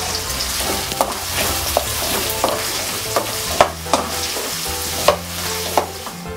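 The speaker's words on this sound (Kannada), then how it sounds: "ಕರಿಬೇವು, ಹೆಚ್ಚಿಟ್ಕೊಂಡಿರೋ ಈರುಳ್ಳಿ, ಫ್ರೈ ಮಾಡ್ಕೋಬೇಕು." Chopped onion sizzles in hot oil with mustard seeds and curry leaves for a cauliflower palya, a steady frying hiss broken by regular spatula taps and scrapes against the pan.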